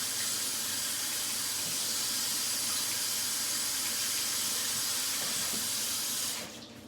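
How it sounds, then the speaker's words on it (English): Steady running water from a kitchen sink tap, a loud continuous rush filling about six seconds before being shut off and fading out. "You didn't hear me there over the sound of the sink."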